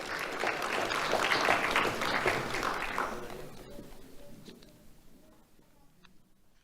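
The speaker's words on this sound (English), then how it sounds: "Let's have a round of applause for Natalia Kadme." A ceremony crowd claps for a student award recipient at a sheriff's office community awards event, a dense burst of applause that peaks early and then thins out and fades over several seconds.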